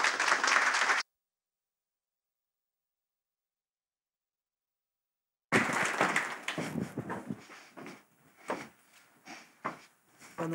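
Applause from an audience welcoming a curator and her guest speaker at a talk, a short burst of clapping, then silence, then scattered claps and room noise.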